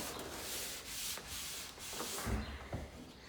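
A tack cloth rubs back and forth over a sanded wooden stair handrail, lifting sanding dust in soft, steady close-up swishes with a few brief louder scuffs near the end.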